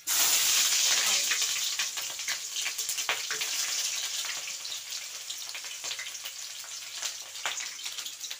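Onions sizzle and fry in a pan for bagara rice, loud at first and then settling into a steady crackling hiss with scattered pops and stirring clatter.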